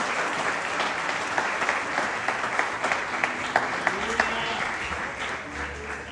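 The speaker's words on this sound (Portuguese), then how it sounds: "As palmas engrandecem o nome do Senhor." A church congregation claps during a sermon, a steady wash of many hands applauding at moderate volume, with faint voices and a low musical tone joining toward the end.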